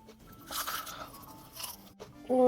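Crisp, crackly bites into BHC Kwasakking fried chicken, a loud crunch burst followed by a second crunch and chewing, close up with no talking.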